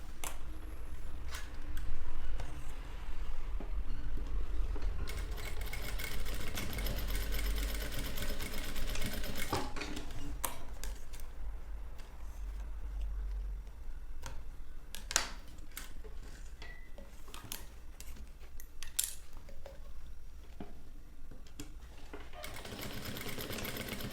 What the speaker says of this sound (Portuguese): eu vou fazer uma costura aqui e outra costura aqui, só para que essa faixa fique bem presa aqui